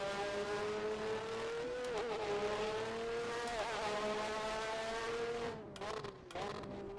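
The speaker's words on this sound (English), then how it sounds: "So now I'm sort of being drowned out by engine noise to the point where even thinking is a little hard." A 1988 Formula One race car in rFactor 2 at the Hungary round, its engine screaming loud and close without pause, pitch sliding through upshifts and downshifts, then briefly cutting and stuttering near the end.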